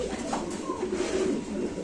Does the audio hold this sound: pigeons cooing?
yes